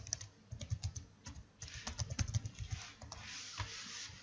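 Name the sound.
typing a password on a computer keyboard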